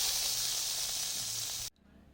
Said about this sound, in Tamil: நம்ம முந்திரி வந்து நெய்யில் வறுத்து போட்டுடலாம்